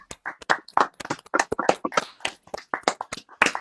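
A few people clapping for a movie during a watch-along, sharp irregular hand claps close by, sparse and uneven rather than a full crowd's applause.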